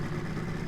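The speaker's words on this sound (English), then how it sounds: "Yeah, definitely a V8. Maybe a V8 truck engine." A V8 truck engine idling in the vehicle-building game Trailmakers, a steady low rumble held evenly for a brief moment with no talk.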